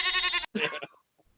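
A goat bleat sound effect, one loud wavering bleat followed by a shorter second cry, then fading to near silence.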